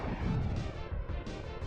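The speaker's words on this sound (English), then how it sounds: "I think I just barely managed to avoid those bombs as they came through" Bombs exploding in the Star Fox video game, a brief muffled crash and rumble of blasts, fairly faint and blurred together.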